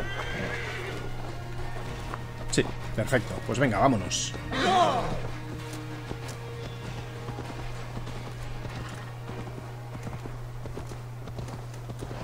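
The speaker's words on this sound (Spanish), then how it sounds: "Vamos a ver qué pasa si pido el caballo." In the Assassin's Creed Valhalla video game, a summoned horse lets out a loud whinny and trots in with clip-clop hooves, alongside a steady low hum and someone talking briefly.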